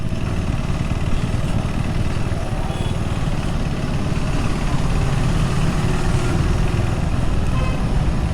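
A KTM Adventure 390 with its 399cc single-cylinder engine idles up close in a steady, even rumble that holds unchanged throughout, with no voices over it.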